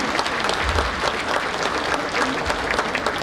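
A crowd applauds at the inaugural session of a business conference held in Sikkim, India. The clapping is dense, steady and loud throughout, with no break.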